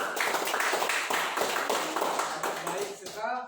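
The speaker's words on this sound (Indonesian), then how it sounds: "Kasih tepuk tangan buat kelompok 2." Students in a classroom clap together for a presenting group, steady crowded applause lasting a few seconds before a voice begins speaking at the end.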